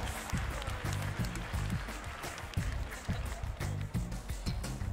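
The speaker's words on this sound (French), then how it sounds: "Vous pouvez également l'applaudir très fort." Audience applause at a student competition podium ceremony, a dense, sustained clapping from a crowd with heavy low thuds and a few voices mixed in.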